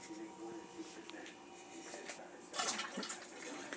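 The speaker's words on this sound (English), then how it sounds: "So now we're going to take our cold water and we're going to add it to our jug." Cold water poured into a jug up to the 4-quart line while brewing beer: a steady, fairly quiet rushing pour that grows louder and splashier partway through.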